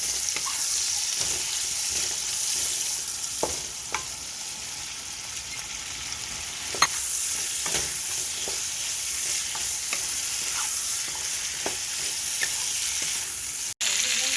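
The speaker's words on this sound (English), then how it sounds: "the garlic actually cooks pretty fast, but we're gonna combine it with the rest of the ginger and the garlic" Garlic and ginger sizzle steadily in a pan, a continuous close frying hiss broken by occasional utensil scrapes and stirring clicks, with no talk.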